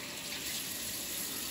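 A tap runs steadily during handwashing, a continuous broad rush of water that stays close and even throughout, with no speech over it.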